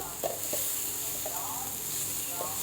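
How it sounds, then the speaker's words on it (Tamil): Ingredients stir-fried with ginger garlic paste in a pan, a constant loud sizzle with a few scraping stirs of a spatula close by. "3ஐயும் போட்டு நல்லா நம்ம லைட்டாக அப்படியே பிரட்டி விட்டுக்கலாம்."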